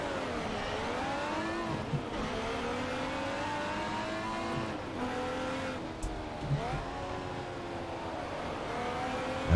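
Race cars in GT Legends, including a Jaguar XJS, pull away at the start of a race, engines droning and revving in layered rising and falling pitches, with brief tire chirps over steady mechanical noise.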